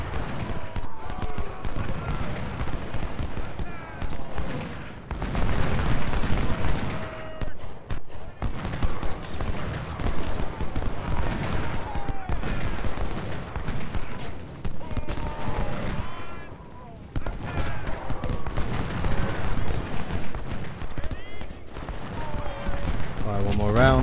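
Gunfire and artillery from the Civil War strategy game Ultimate General: Civil War, with dense, continuous volleys and bursts layered over music and battle noise for the whole stretch, loud and close.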